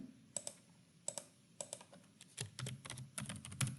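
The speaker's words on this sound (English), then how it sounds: "Now I am going to type out the books that I have that are classified as fiction." Typing on a computer keyboard, quiet and close, with irregular clusters of key clicks and short pauses, picking up to denser tapping near the end.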